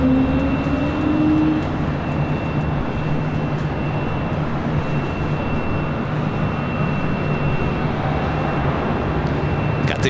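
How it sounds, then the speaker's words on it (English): An Airbus A380 taxiing at LAX makes a continuous, even jet rumble with a low engine hum and a faint high whine, sustained and steady throughout. "A380 heading back"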